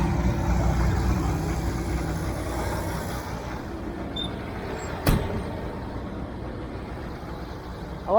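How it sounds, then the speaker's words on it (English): A Massey Ferguson 1105 tractor engine runs at a raised, steady high idle out in a hay field, a loud continuous rumble that eases slightly partway through, with a brief sharp knock and a rising whine near the end. "I like to let the engine run at a higher idle when I come off of a heavy load"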